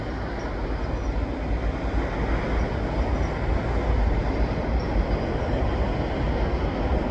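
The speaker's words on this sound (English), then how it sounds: "And that's the last of the train." A CN freight train rolls past on a main line, its wheels and cars making a loud, steady, continuous rumble that holds without a break for the whole stretch.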